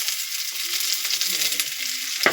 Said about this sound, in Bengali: গরম তেলে পেঁয়াজ দেওয়া হলো।